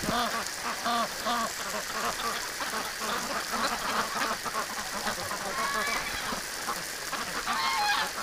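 A flock of wintering geese honks repeatedly and noisily, overlapping calls close by, with a faint wash of water from a garden hose or rain-like hiss underneath.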